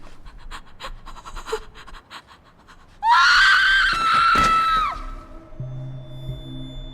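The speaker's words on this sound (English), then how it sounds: "she screams as if she's just seen a dead body." A woman pants and breathes tensely, then bursts into a loud, sustained shriek of horror lasting nearly two seconds before it trails off into quieter background sounds.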